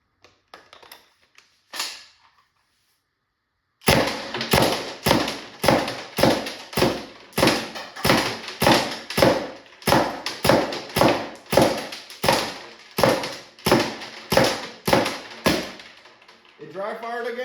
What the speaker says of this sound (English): It dry fired again, which means mag is empty